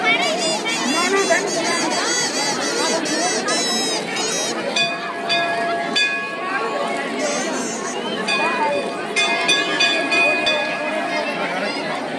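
Dense crowd at the Molthi fair in Pauri Garhwal, a constant close hubbub of many voices and movement with bright tones ringing out, while someone speaks over the babble.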